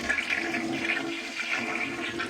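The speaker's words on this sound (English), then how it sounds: "You're going to flush this toilet, make sure there's no leaks" A newly installed bathroom toilet flushes with a continuous, loud rush and swirl of water, heard close up with no talking.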